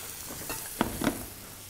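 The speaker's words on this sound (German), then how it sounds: "Zwiebeln rein." Onions go into a hot pan where veal is being cooked, setting off a soft sizzle with a couple of quick clinks and stirring bumps over about two seconds.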